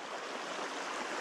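A wilderness creek flowing steadily, a dense, even rush of water close by, continuous and unbroken with no voices over it.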